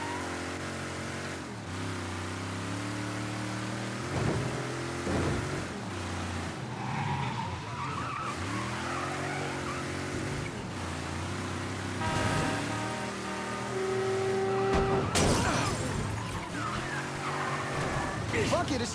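Car in Mafia 3 revving hard with engine sweeps, thuds of impacts and a rough burst of noise near the end, loud and close under intermittent talk.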